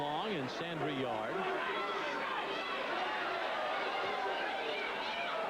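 Crowd noise at a women's pro boxing bout, Kathy Long against Sandra Yard in the first round, a steady murmur and cheering throughout with a commentator's voice talking over it.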